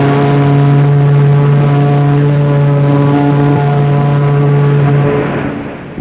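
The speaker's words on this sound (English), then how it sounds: "One long blast on a whistle." The battleship USS New Jersey sounds one long, loud blast on her ship's whistle, a steady, deep droning tone held for about five seconds before cutting off.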